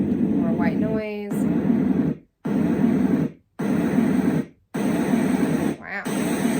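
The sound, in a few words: sound machine playing white noise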